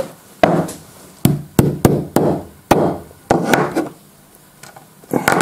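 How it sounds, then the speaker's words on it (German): Repeated sharp hammer taps on a Kanger v2 vape coil during a rebuild for an EMOW MegaClip, about a dozen close, loud knocks in uneven bursts with short pauses, no talking. "dann machen wir halt die Hammermethode."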